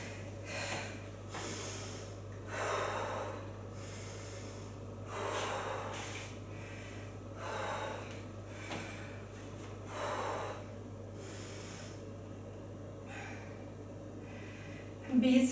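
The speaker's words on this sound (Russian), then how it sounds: "Вдох, выдох." Heavy workout breathing during a CrossFit-style session, slow rhythmic inhales and exhales repeating every couple of seconds, close to the mic over a steady low background hum.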